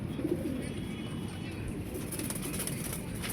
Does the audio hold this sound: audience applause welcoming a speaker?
no